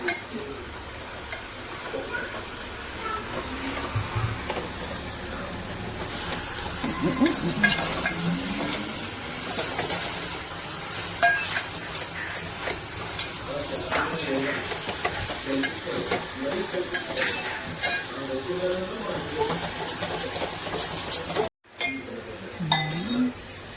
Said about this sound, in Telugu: గోంగూర బాగా నూనెలో మగ్గితే ఆ టేస్ట్ చాలా బాగుంటుంది. అందుకే బాగా కలుపుతూ మగ్గించుకోవాలి.